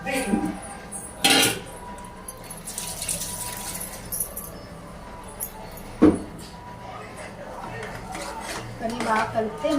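Minced mutton stirred with masala, tomatoes and onions inside a pressure cooker, with a few sharp metallic clinks and scrapes of a spoon against the pot amid quieter kitchen handling.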